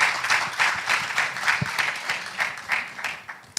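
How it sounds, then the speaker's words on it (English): Applause breaks out after a call for a round of applause at a business session on profit with purpose, a loud, dense crowd clapping that swells and pulses steadily throughout. "I believe that deserves a round of applause."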